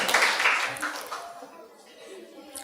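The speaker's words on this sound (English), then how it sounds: "let's give them a round of applause as we go" Audience at a primary school quiz applauding, a short burst of scattered clapping with some chuckling that quickly fades, heard over a speaking voice.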